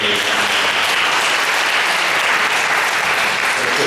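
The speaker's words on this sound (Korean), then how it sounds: "우리 잘 다녀오라고 박수 건네하겠습니다." A church congregation at a young adults' worship service claps steadily, a loud, sustained wash of applause filling the room for several seconds without pause.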